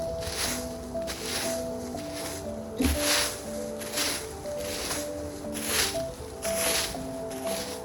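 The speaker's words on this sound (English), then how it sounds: "I'm raking the leaves." Fallen leaves being raked outdoors, with repeated rhythmic scraping sweeps of the rake roughly once a second over a steady background hum, close and fairly loud.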